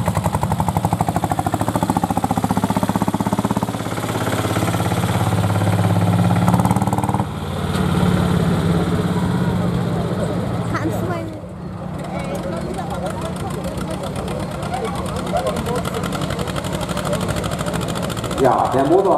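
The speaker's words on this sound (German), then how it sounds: "der Motor hat so eine große Schwungmasse, den muss man erstmal auf Touren bringen" A 20 hp tractor's engine runs loud and close at a tractor pulling contest in Eddesse, droning steadily with a brief dip midway, while an announcer talks over it throughout.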